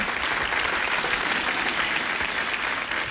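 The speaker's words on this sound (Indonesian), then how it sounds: "Tepuk tangan untuk D-Boy dong." Loud, continuous applause from a studio audience on an Indonesian comedy variety show, a thick wash of clapping lasting the whole stretch.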